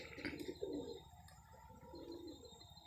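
Pigeons coo faintly in a quiet spot at dusk, soft low throaty calls in two or three short bursts against a calm, hushed background, with no voices.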